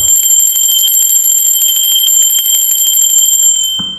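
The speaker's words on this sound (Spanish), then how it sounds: "¡Va, campana!" A bell rings to open a tarot reading, a bright sustained metallic tone with steady high overtones that holds loud for nearly four seconds before cutting off abruptly.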